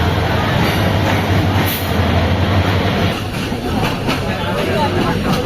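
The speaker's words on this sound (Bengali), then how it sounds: "আমরা এট লাস্ট ট্রেনে উঠলাম।" Riding aboard a train bound for Chittagong, a steady loud rumble of wheels and carriage rattle fills the cabin, with faint squeals and occasional murmuring voices beneath the continuous noise.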